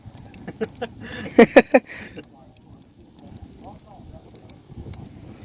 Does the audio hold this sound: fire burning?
yes